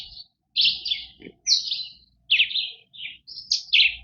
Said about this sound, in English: I don't know if that chirping is the hummingbirds or other types of birds